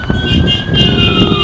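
An emergency vehicle siren wails steadily and loudly, close by, its tone sliding slowly over a rough background of road noise, with cattle nearby in a rural setting.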